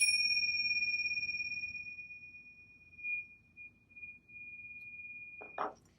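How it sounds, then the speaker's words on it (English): A Tibetan singing bowl is struck once at the end of a meditation and rings with a clear sustained metallic tone that slowly fades, followed by a few faint soft handling sounds. "What do you think ringing a bowl means like this?"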